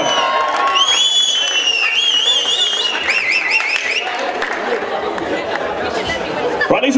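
Wedding guests cheer, whoop and chatter for the newly married couple at a dance-off with a DJ, a loud, steady crowd roar with scattered shouts, some clapping and high whistles throughout.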